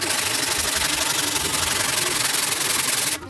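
A Bruno Ventura 12-string guitar body being restored is sanded by hand in steady, close, continuous rubbing strokes that stop abruptly at the end, with no talking.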